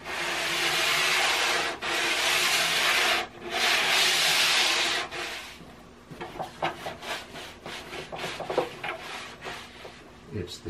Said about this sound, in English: I'm just going to lightly sand